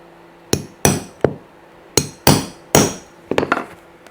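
Sharp hammer strikes on a hole punch making 1.5 mm decorative holes in box calf shoe leather, about ten crisp close taps in irregular groups with short gaps, no talk.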